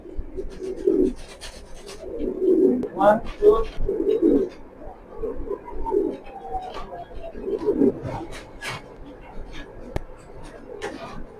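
Racing pigeons coo repeatedly at close range in soft, throaty bursts, with a person speaking quietly between and over the calls.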